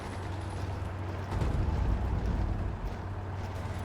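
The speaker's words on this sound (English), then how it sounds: "I'm going to go ahead and drop a nuke here" A nuclear bomb strike in Hearts of Iron IV lands as a deep, swelling roar that rises over a steady low rumble and then fades back into the background drone.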